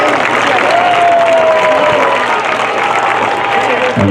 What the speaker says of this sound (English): please give a big round of applause to our 2022 Alma Bryant High School Athletic Hall of Fame inductees